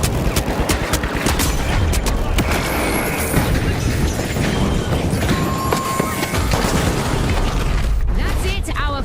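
Loud chaotic blasts of a grenade and gunfire in a team-based arena shooter video game, dense and sustained with crashing debris under constant action noise.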